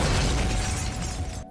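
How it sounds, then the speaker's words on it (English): A loud, sustained roaring blast fills the clip, dense and broadband, then cuts off abruptly at the end. "Walt even decides to blow up this guy's car with his newfound power."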